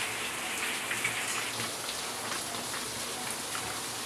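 Steady rain patters on a shop's hard roof, a dense, even hiss of drops with no voices.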